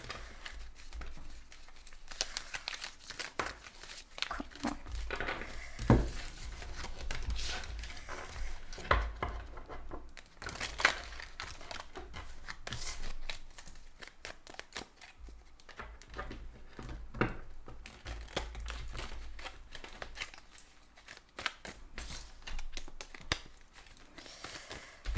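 Tarot cards being shuffled, giving a run of soft, rapid riffling and patting sounds with a few sharper taps, close to the microphone and heard alone.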